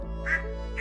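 A duck in the farming video game Stardew Valley quacks twice, short nasal calls spaced apart over a low steady background music drone.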